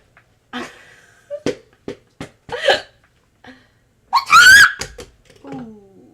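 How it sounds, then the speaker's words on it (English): A string of sharp, separate hiccups from a person right after a burping contest, loud and close. One drawn-out vocal sound comes near the end. "I have the hiccups."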